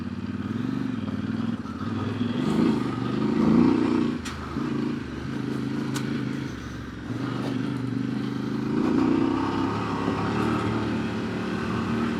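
A Voge Valico 800DSX Rally motorcycle rolls over cobblestones with a loud, steady engine drone that rises and falls slightly as it rides, heard from close up with faint rattles and knocks over it and no talk.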